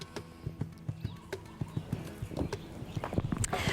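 A horse in Cossack trick riding clip-clops in a steady, evenly spaced rhythm of hoofbeats. The hoofbeats are moderately close, and a brief brighter noise comes near the end.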